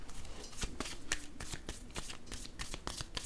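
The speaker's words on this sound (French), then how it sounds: "Je vais déposer une autre carte ici." Tarot cards are handled and shuffled during a card reading, a close, steady run of rapid papery flicks and riffling snaps lasting several seconds, with no talk over it.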